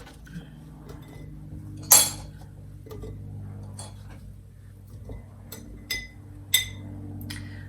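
A knife chops horseradish and ginger on a board for fire cider, giving a few sparse, sharp knocks and clinks at close range over a quiet background.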